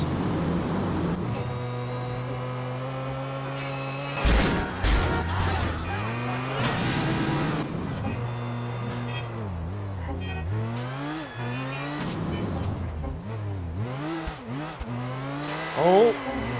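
Racing car engine in Grand Theft Auto: The Ballad of Gay Tony, droning loud and steady with rising and falling revs, sharp boost surges from a nitrous shot, and a voice talking over it.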